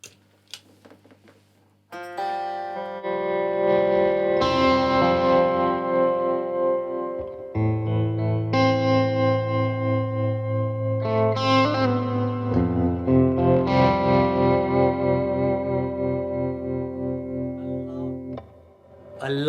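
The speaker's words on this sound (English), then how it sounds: "So tremolo, I'll turn the delay off, so just tremolo on reverb." Electric guitar chords ring out with a pulsing tremolo wobble and a wash of reverb, sustained notes swelling and fading without any talk.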